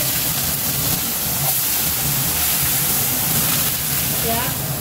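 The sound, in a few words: onions frying in a pan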